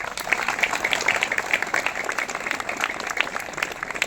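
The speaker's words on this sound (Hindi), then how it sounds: "एक बार अपने लिए जोरदार तालियों से अपना स्वागत करें" An audience of schoolchildren applauds loudly at a Beti Bachao Beti Padhao pledge rally in Kanpur, a dense, steady wash of clapping that lasts throughout without pause.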